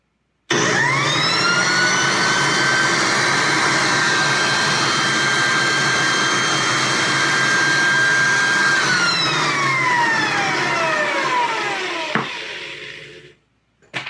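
An American Sanders B2 floor edger starts up and whines at a steady high pitch for several seconds, then spins down with a falling tone and stops. The sound is loud and close, with no talking.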